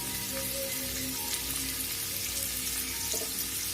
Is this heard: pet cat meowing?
no